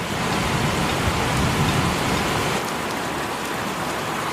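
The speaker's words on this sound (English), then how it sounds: "Told you it was raining." Steady rain falls outdoors and patters on surfaces in a dense, continuous wash. The sound is fairly loud and close, and no voices can be heard.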